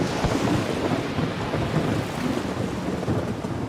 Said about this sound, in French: Puis, soudain, une violente tempête nous frappa.